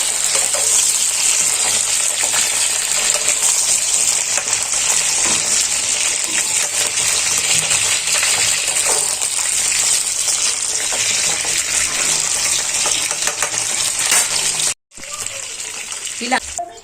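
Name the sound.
brinjals frying in oil in a pan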